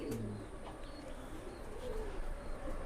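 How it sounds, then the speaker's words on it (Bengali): A raw-blood Saki pigeon gives a soft, low coo near the start, followed by fainter cooing and quiet background noise. "এলো অরিজিনাল সাকি কবুতর।"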